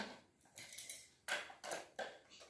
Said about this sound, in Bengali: ও আমার কড়াই ফেলে দিয়েছে গ্যাসের চুলা থেকে